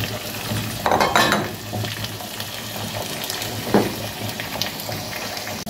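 Potatoes tossed into a pot of solyanka on the stove, a close splashy clatter followed by steady sizzling and stirring of the stewing vegetables, with a couple of sharper knocks of a utensil.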